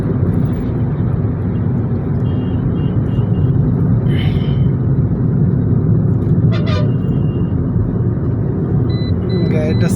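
Dense road traffic of cars and motorcycles, a continuous low engine rumble and road roar close by, with a couple of brief higher horn-like tones and voices talking over it.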